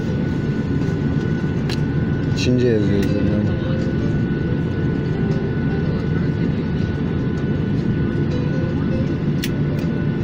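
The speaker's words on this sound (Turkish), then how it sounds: "Uçak mı bu acaba?" A steady loud airliner engine roar at an airport on the way to Phuket, rumbling continuously throughout while a person talks briefly over it.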